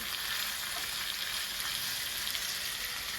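Green chicken pieces fry in a pan over a medium flame, giving a steady, dense sizzle that holds evenly from start to finish with no talking.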